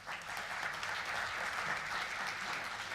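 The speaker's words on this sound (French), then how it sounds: "C'est plutôt sympathique comme accueil, ça, hein, des applaudissements" Audience applause at a national congress debate of the liberal professions in France, moderately quiet but steady clapping from a crowd lasting a few seconds.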